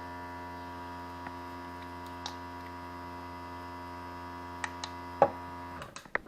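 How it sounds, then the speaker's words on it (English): An airbrush compressor, used while painting a balsa crankbait lure, gives a steady, low electrical hum throughout, with a few light clicks and handling knocks near the end. "I got my airbrush."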